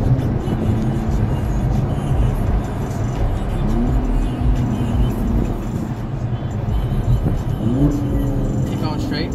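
A 2017 Aston Martin DB11 with a twin-turbo V12 of about 600 horsepower cruising on the road, a steady low engine drone with a few gentle rises in revs, heard from inside the cabin under ongoing conversation.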